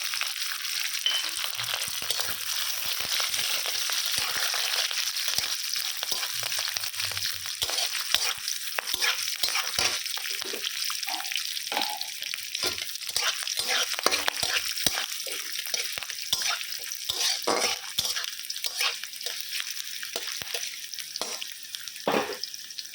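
Cashew nuts and a green chili fry with coconut in a pan, a continuous loud hiss of oil overlaid by frequent irregular scraping and tapping strokes of a spatula throughout.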